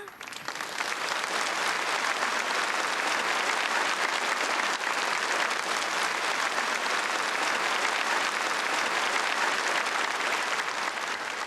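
A large audience at a children's union celebration stage show applauds in a loud, dense, unbroken burst that rises quickly and holds steady throughout.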